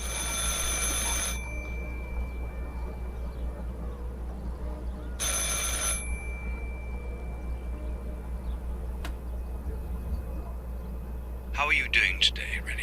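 Old-fashioned telephone bell ringing in the video game Martha Is Dead, two loud shrill bursts of about a second each separated by a long pause, over a low steady hum, with a brief rustle near the end.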